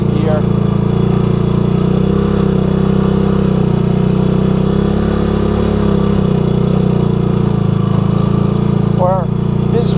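A 1984 Honda ATC200S three-wheeler engine runs at a steady, loud idle-like chug throughout, with someone talking over the mechanical drone.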